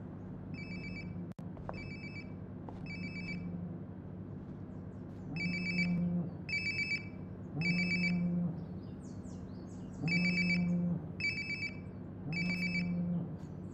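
Phone ringing nearby in the video game Life is Strange: Before the Storm, a repeating electronic ring in short regular bursts over a low ambient hum, each burst loud and close.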